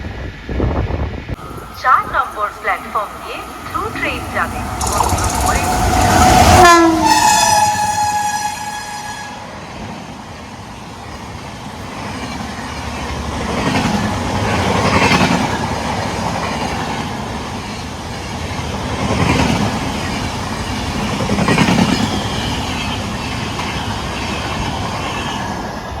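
A through train speeds past platform 4 at a station, opening with a loud sustained horn blast and then a long rolling clatter of wheels that swells and fades in waves, with someone talking at times.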